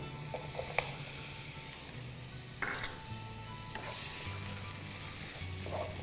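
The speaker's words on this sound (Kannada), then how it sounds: "ಇದು ಬಣ್ಣ ಹೋಗೋವರೆಗೂ ಇದನ್ನು ಚೆನ್ನಾಗಿ ಹುರಿಬೇಕು ತುಪ್ಪದಲ್ಲಿ" Ginger paste, garlic paste and onion fry in hot ghee with a steady close sizzle throughout. A utensil stirs the pan and adds a few light scrapes and clinks.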